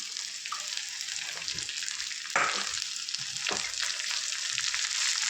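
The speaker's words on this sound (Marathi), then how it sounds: "भेंडी टाकल्यानंतर ना सात ते आठ मिनटापर्यंत असं कंटिन्यू हलवत राहून परतून घ्यायचं आहे" Chopped okra stir-frying in a hot pan with garlic and a tempering, a steady loud sizzle with scraping stirs and a couple of sharper bursts as the pieces are turned.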